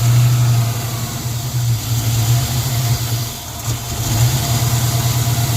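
The engine of a 1994 convertible car idles roughly after being restarted, a loud, close, low hum that wavers and dips unevenly.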